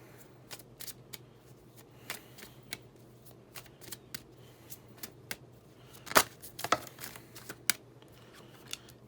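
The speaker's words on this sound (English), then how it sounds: "Let me pull one more card." Tarot cards being shuffled and pulled from a deck during a reading, giving soft repeated riffling flicks and slaps, with a denser burst of snapping card sounds midway, close up and alone.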